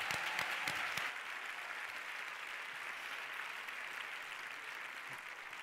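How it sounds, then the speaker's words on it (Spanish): Audience applause for a science monologue performer at a FameLab 2017 semifinal in Barcelona: a sustained, dense wash of clapping from a crowd, with a few sharper claps near the start, steady and fairly loud without talk. "aplaudamos a Ana Reyes porque ha estado genial"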